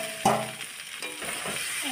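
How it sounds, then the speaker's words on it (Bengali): Fried okra and potato are stirred in a pan with spices, giving a quiet sizzle with scraping spoon strokes, one sharper scrape near the start and softer ones after. "ভালোভাবে নেড়ে নেব।"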